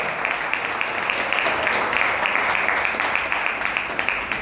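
Church congregation applauding loudly during a sermon, a dense, sustained wash of many hands clapping at once with no pause.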